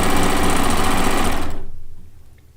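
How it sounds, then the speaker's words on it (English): A cover stitch machine sews a chain stitch while piecing a quilt, running as a loud, steady, rapid mechanical whir that then winds down and fades out over the last second. "I personally prefer to do it with this chain stitch on the cover stitch side"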